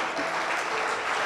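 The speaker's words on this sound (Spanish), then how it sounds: "Dele un fuerte aplauso al Señor." A church congregation breaks into strong, dense applause, a continuous wash of many clapping hands filling the room.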